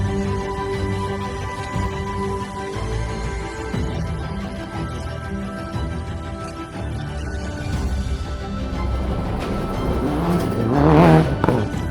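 Rally cars on the Clyde Long stage of the Lazer Rally of the Bay, including a newer AP4 car, a loud sustained engine roar with tire noise swelling as a car passes close near the end.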